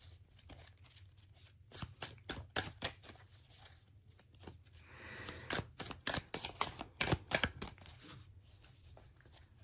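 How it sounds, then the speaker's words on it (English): Tarot cards being shuffled by hand, close and quiet, in repeated crisp riffling bursts and soft slides with short pauses between, with no talking. "to show that I'm shuffling the cards"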